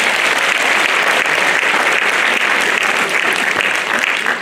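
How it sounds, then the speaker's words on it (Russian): Audience applause at a formal concert for the Day of the Elderly in Likhoslavl, dense and sustained clapping from a large crowd, loud and close, filling the whole stretch without letup. "Можно аплодисментами."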